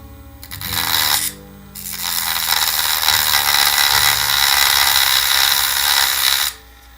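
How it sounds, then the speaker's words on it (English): A Dremel rotary tool whirs and grinds at low speed on a Matchbox 65C Claas combine harvester model, its pitch shifting, stopping briefly and then running steadily before cutting off. "we're going to grind those off with the Dremel. I like to run the Dremel at slow speed to start."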